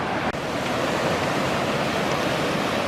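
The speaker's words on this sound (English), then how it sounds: "So here we are at the bottom of the Dee. Beautiful, look at this, lovely river." The River Dee rushes past after heavy rain, a loud, steady broadband roar of flowing water heard up close, with a faint click near the start and no talk.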